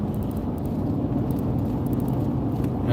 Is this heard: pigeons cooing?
no